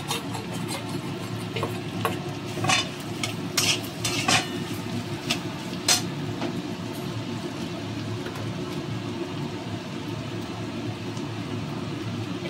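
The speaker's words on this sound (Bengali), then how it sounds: "এবার আমি এতে আলু সেদ্ধটা দিয়ে নিচ্ছি।" Boiled potato hits hot oil with cumin and chillies in a pan for a vegetarian filling. A steady low frying hiss runs underneath, and sharp clinks and scrapes of a utensil against the pan come through close by.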